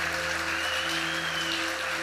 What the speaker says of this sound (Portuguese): Vamos aplaudir esse grupo aí